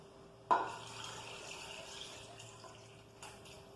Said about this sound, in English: you're going to fill it with enough water to just reach the same level as the yams.